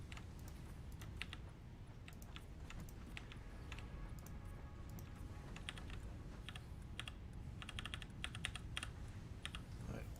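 Frantic computer keyboard typing, quick irregular clusters of key clicks scattered across a steady background hum, fairly quiet and without talk.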